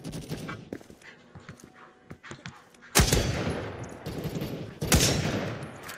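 Gunshots in the Krunker.io browser shooter, a few sharp cracks and two loud bursts standing out over quieter game noise and clicks, with a little background chatter.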